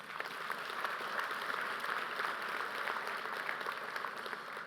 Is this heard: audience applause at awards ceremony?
yes